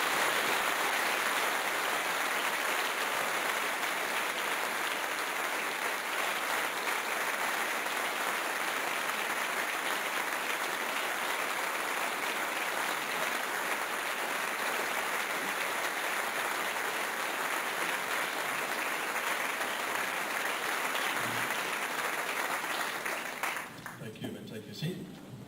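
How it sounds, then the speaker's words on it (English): A school celebration audience applauds music honours pupils: broad, sustained clapping fills the hall for over twenty seconds at an even level, then breaks off abruptly into quieter room noise near the end. "Please join me in applauding these outstanding young people"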